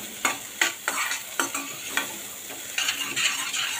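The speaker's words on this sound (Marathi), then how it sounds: "आता ही चांगली परतून घेऊया" A chili pakoda mixture is sautéed in a pan while a spoon stirs and scrapes in quick repeated strokes over a steady sizzle, close and alone with no talk.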